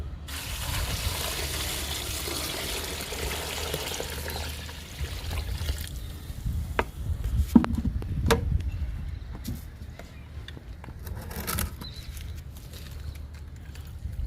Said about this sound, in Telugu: నిండుగా పోసుకోవాలి వాటర్ని.